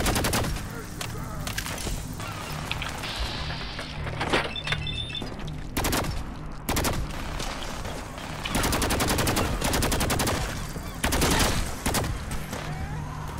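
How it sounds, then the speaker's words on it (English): Rapid automatic bursts from a modified BOTS Electronics laser rifle, reworked into an automatic pistol, in Fallout 4: clusters of sharp repeated shots with brief pauses between them, loud and close throughout. "original BOTS electronics laser rifle from Fallout 1 and 2, modified to be a automatic pistol"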